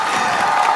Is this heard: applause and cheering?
yes